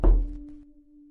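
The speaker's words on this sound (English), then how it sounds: "there was a sudden knock on the door." A single sudden knock on a door in a horror story, one close, solid thump followed by a lingering low hum as the sound fades.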